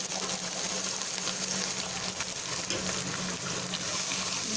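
Tomatoes added to a hot frying pan of mixed ingredients give a loud, continuous sizzle with a broad hiss and faint stirring, close up and without speech.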